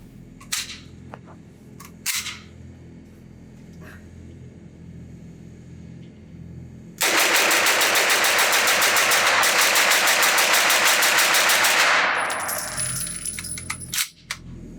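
A TPM Outfitters MP5-N roller-delayed rifle dumping a magazine at an outdoor range: a few scattered clicks and handling noises, then a loud, sustained rapid string of shots for about five seconds, followed by metallic clatter.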